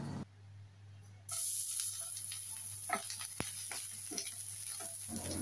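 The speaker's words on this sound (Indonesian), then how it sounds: "Panaskan sedikit minyak, kemudian ditumis harum bumbu bawang putih dan jahe." Garlic and ginger hit hot oil in a pan and start stir-frying, a loud, steady sizzle and hiss with occasional spatters and stirring clicks.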